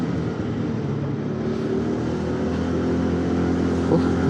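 Honda ADV 160 scooter engine drones steadily while riding a rough hilly road beside a ravine, a continuous close low hum with wind noise and no speech.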